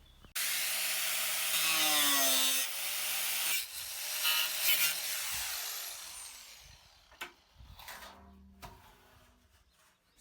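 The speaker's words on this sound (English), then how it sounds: "I've got my angle grinder, I've got my safety gear, so now I'm going to cut it." An angle grinder slices through a metal roof sheet for a garden shelter, a loud close whine and grinding rasp for several seconds that drops away, followed by scattered clanks and scraping.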